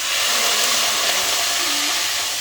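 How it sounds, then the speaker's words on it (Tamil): Tamarind water hits a hot pan with a loud, steady sizzling hiss that holds at full strength from start to finish, broad and close with no voices over it. "புளி ஊற்றிடுங்க. புளி ஊற்றிடுங்க, ஊற்றுங்க டக்கு."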